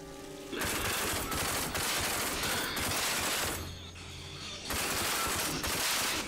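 Automatic gunfire in the video game Rage rattles in loud sustained bursts, with a short lull and a low hum partway through before another burst resumes.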